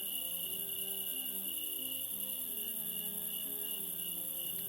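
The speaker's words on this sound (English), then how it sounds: "the crickets in Edible are louder than the crickets in other places" Crickets chirping in the video game Project Gorgon, in the town of Edible where they play loud: a dense, constant high trilling drone over soft background music.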